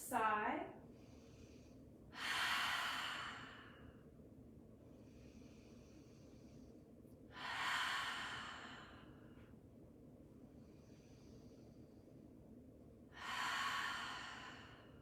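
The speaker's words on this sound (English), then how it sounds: "Let's take 3 breaths" Three deep, slow exhales during a yoga session, each a long breathy whoosh of a couple of seconds, close and soft, spaced evenly with quiet pauses between.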